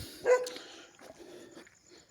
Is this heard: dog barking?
yes